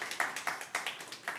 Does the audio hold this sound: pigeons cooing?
no